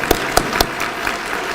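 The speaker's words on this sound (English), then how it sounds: "Please join me giving them all a well-deserved round of applause for all that they do for us." Brief audience applause at a mental health initiative unveiling, steady crowd clapping with a few louder near claps standing out early on.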